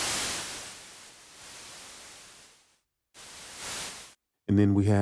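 Cherry Audio GX-80 synthesizer noise oscillator producing a steady broadband hiss, played as two sustained bursts separated by a brief silence, followed by a short pitched synth tone at the end.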